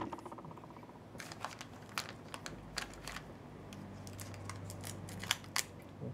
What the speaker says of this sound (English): I'm going to take some of my clear tape.